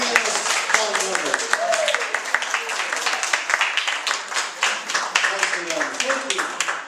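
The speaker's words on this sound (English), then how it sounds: "round of applause for our newest fun member" A small audience claps in scattered applause while voices chatter and call out over it throughout.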